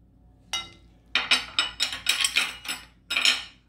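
Metal spoon scraping and clinking against a pan while garlic paste, green chilies and crushed cumin are mixed together; a quick run of close, rhythmic knocks and scrapes with brief pauses, no talking.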